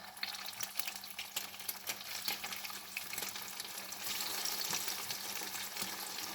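Battered fish fries in hot oil with a soft, steady crackling sizzle and scattered bubbling pops, faint and fairly distant, with no voices over it.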